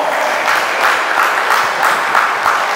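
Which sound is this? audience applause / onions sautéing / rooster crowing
audience applause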